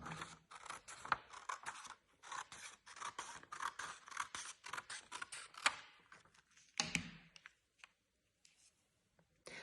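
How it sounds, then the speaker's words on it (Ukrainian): Scissors snip repeatedly through green paper, cutting strips in quick, close, quiet clicks that pause briefly before a final few cuts and then silence. "Із зеленого паперу ми відрізаємо три смужки для стебла нашого підсніжника."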